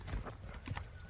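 A horse runs outdoors, its hooves clip-clopping in a quick, fairly faint rhythm over a wash of open-air noise.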